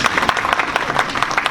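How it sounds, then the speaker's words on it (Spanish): An audience in a church claps during a talk on sound, giving a brief burst of dense, close hand claps with a steady crackling texture and no speech. "un aplauso para ella"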